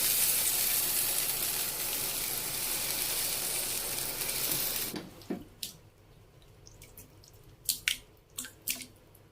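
Beef brisket goes into a pot for Padang-style gulai: a loud steady sizzling wash for about five seconds, then quieter scattered drips, clinks and pops as it settles.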